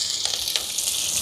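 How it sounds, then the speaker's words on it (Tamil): Onions and green chillies sizzle steadily in a hot pan for a Jaffna string hopper kottu and crab curry meal, with a constant bright crackle, light stirring bursts and no voices. "இப்போ வெங்காயம் எல்லாம் வதங்குது"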